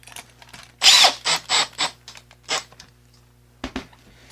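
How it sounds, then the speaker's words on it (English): A power drill drives bolts while a deadbolt lock is installed in a door, with a series of short close whirring bursts separated by brief pauses, then two quick final pulses. "So I'm just going to install both bolts."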